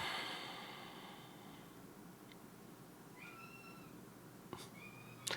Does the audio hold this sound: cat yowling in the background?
yes